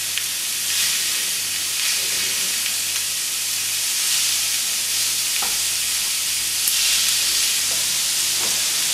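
Ground beef sizzles steadily in a hot pan for a cheeseburger soup, a dense frying hiss running throughout with faint scraping and stirring as the meat is broken up, no talking over it.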